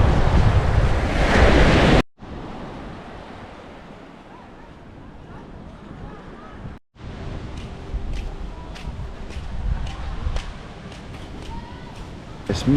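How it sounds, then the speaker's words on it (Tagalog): Strong wind by the shore at Nawiliwili, Hawaii, buffets the microphone in a loud roaring burst, then gives way to softer rushing surf and breeze after brief cut-outs. "Medyo malakas ngayon yung hangin dito."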